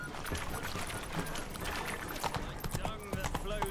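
Hooves of a horse ridden through a city in the video game The Witcher 3: Wild Hunt, a steady, close clip-clop running throughout under voices and ambient game sound.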